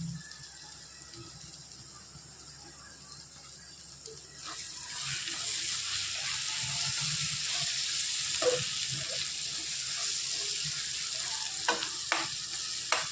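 Curry leaves and green chilies hit hot oil in a pan for an egg curry, quiet at first and then bursting into a steady, loud sizzle with occasional crackles and pops.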